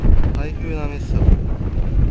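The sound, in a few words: strong typhoon wind on a golf course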